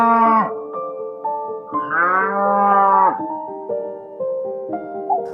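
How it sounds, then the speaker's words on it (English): A cow moos in several long, loud, close lowing calls with shifting pitch, separated by short pauses, with no other sounds around them. "Cow."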